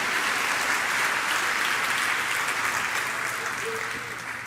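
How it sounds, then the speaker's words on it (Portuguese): A church congregation breaks into dense, steady applause that fills the space, holding strong and then tapering slightly toward the end, with a faint voice briefly audible underneath. "dá uma salva de palmas."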